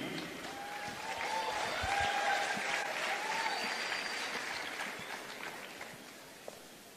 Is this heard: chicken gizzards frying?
no